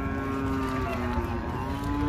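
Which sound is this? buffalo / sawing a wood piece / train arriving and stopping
buffalo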